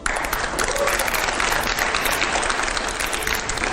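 Studio audience at a televised interview breaks into loud, dense applause, a continuous wash of clapping filling the whole moment with no pause, close and full.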